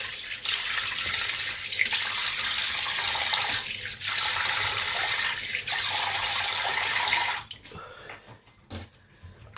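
Tap water runs steadily into a sink during a face rinse, a loud continuous hiss with brief dips before cutting off near the end.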